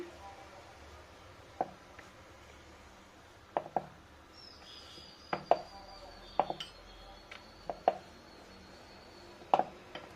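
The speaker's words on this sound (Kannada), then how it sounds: "ಚಿಕ್ಕ ಚಿಕ್ಕದಾಗಿ ಪೂರಿ ಲಟ್ಸ್ಕೊಳ್ಳೋಣ" A rolling pin rolls out small puris on a board, tapping and knocking every second or so in a sparse, irregular rhythm over quiet kitchen background noise.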